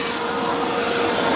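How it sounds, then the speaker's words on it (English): A powerful Karcher vacuum cleaner roars steadily and loudly close by while cleaning out a car boot, a continuous rushing whine with no pauses. "This time I'm cleaning out with my car with a very powerful Karcher vacuum"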